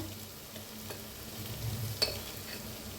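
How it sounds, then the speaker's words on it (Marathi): Tomato and onion frying for matki sambar, giving a soft, continuous sizzle with a gentle stirring scrape and one brief clink near the end, quiet and close. "आता छान भाजा लागलेले आहे टमाटो कांदा."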